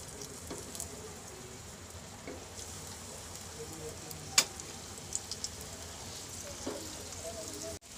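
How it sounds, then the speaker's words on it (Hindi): Chicken shami kebabs fry in hot oil in a frying pan on a gas stove, giving a steady, soft sizzle throughout with a few small pops and crackles. "इसमें अब हम कबाब फ्राई कर लेंगे"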